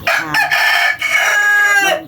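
A rooster crows once, loud and close, in a farmyard poultry pen, one long strained cock-a-doodle-doo lasting about two seconds.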